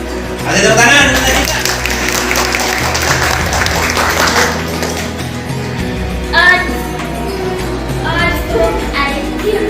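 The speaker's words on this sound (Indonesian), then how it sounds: "Ada tepuk tangan." A classroom of students in an English lesson claps loudly, with shouts and chatter rising above the applause and children's voices calling out throughout, the clapping surging again briefly in bursts.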